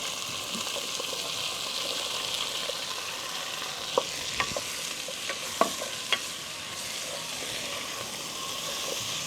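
Capsicum and mushroom frying in a pan, a constant bright sizzle with a cluster of crisp spatula scrapes and clacks in the middle stretch, close and fairly loud.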